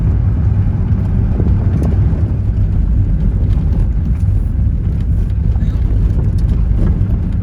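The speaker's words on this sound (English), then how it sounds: "I got the top down. That's why you're hearing all the road noise, I guess." Road and wind noise in a convertible with the top down makes a loud, steady low rumble and buffeting roar that carries on throughout.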